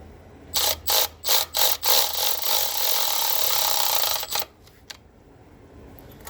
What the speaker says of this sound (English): that tool that I used to extract the studs, I'm gonna use that same one to reinstall them.